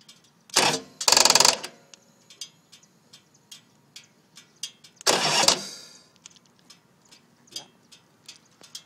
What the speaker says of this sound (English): I'm gonna give it a little gas now.